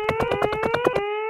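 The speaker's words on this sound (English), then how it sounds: "Suppose you hear that alarm again." An alarm siren pulses in rapid, regular bursts of a steady electronic tone, about nine loud, close beats before it cuts off.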